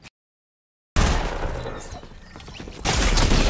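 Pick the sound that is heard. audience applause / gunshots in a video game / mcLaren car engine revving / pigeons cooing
gunshots in a video game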